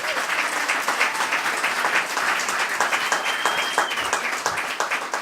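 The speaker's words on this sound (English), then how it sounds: "Give Dawn a round of applause." Audience applauding for a clinical director at a recovery center event, sustained dense clapping throughout, fairly close and loud, with a few faint voices underneath.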